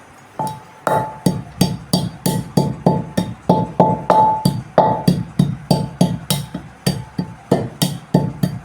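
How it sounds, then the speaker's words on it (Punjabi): Cumin seeds and black peppercorns pounded in a clay mortar, a steady run of sharp, close knocking strikes about twice a second with a faint ringing tone, alone without talk. "ਸਭ ਤੋਂ ਪਹਿਲਾਂ ਆਪਾਂ ਜੀਰਾ ਤੇ ਕਾਲੀ ਮਿਰਚ ਇਹ ਪਾਵਾਂਗੇ ਹੁਣ ਇਹਨਾਂ ਨੂੰ ਆਪਾਂ ਥੋੜਾ ਜਿਹਾ ਕੁੱਟ ਲਵਾਂਗੇ"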